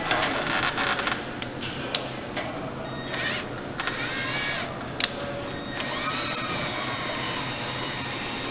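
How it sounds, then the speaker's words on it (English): A 12-volt drill with a 3/8 drive cranking down an S-8500 power unit, a steady mechanical whir with creaking and several short sharp clicks and squeaks, moderately quiet and continuous with no talking. "We're just using a 12-volt drill with a 3/8 drive on it."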